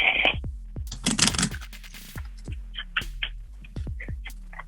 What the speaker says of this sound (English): So, Thomas, just give the cards a good shuffle until you're satisfied